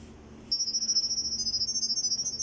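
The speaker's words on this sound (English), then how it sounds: "the system is using the sound wave to make the connection" Wireless network camera emitting a Wi-Fi pairing sound wave: a steady high-pitched electronic tone that starts abruptly and holds for about two seconds, pulsing rapidly in loudness, close and alone over faint background hiss.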